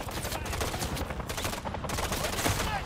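Shotgun fire in Call of Duty: Modern Warfare 3 (2023), heard as dense, rapid overlapping gunshot blasts that carry on continuously through the short stretch of chaotic game combat.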